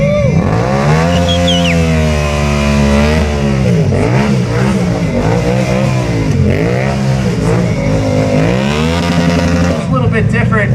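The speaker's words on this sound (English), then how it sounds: "Again, the Yamaha MT-07, 700 cc's of torque, coming at you" A Yamaha MT-07 700cc motorcycle revs repeatedly at a stunt show, its loud close engine note rising and falling in sweeping pitch swells under an announcer talking over a PA.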